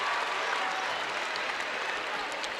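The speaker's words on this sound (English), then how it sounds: "he'll get a nice hand from the big Senator crowd" A big crowd at a city high school basketball tournament applauds an injured player, a dense sustained wash of clapping that fills the gym evenly throughout.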